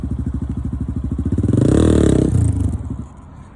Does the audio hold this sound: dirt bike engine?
yes